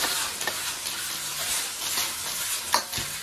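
Cooking wine is poured into a sizzling wok of onion, wood ear mushroom and egg stir-fry, giving a steady close frying hiss with a brief louder sizzle burst near the end, and no voices.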